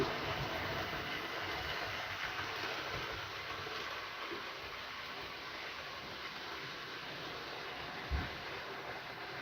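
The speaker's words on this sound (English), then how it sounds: "Quite small locos, so that they actually look properly decent together with a double header like that, even with a short train." Two small model railway locomotives double-head a short train, giving a steady, faint rumbling run across the whole stretch, with one brief clunk near the end.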